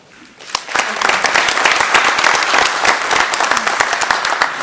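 An audience at a 2013 Waukegan mayoral candidates forum bursts into applause, dense clapping rising quickly after a brief lull and continuing steadily close by, with no voices over it.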